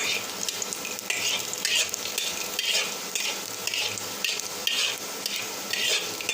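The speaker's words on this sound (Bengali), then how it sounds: "এটাকে এবার একটু লাল করে ভেজে নিতে হবে।" Black cumin seeds sizzle in a pan of oil, the crackling hiss swelling in regular waves as a spatula stirs them in repeated strokes, close and fairly loud, with no voices.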